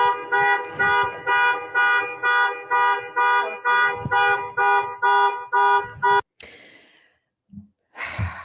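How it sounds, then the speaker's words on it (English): A car alarm beeps repeatedly in a steady pulsing rhythm for several seconds in the background, then cuts out, followed by a few short rustling and breathy sounds. "I found it interesting, the car beeping in the background"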